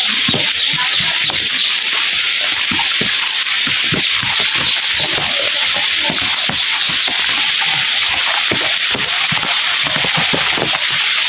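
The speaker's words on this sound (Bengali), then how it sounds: "বৃষ্টি দুমছে নামছে" Heavy rain pouring down on a village home, a loud, dense, unbroken hiss and patter with scattered splashy knocks from drops striking nearby surfaces.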